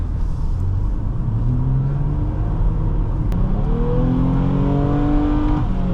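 A 2011 Nissan Maxima SV drives and accelerates, its engine note rising in a steady, continuous drone that climbs in pitch over several seconds, heard from inside the car with no talking.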